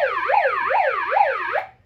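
A siren wails up and down in quick repeating sweeps, about four cycles, loud and clear before cutting off.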